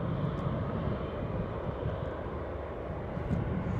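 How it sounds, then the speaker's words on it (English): Buzz Air airliner landing at London Luton Airport, a steady, loud low engine roar and rumble held throughout, with wind noise and no speech. "Buzz Air coming in."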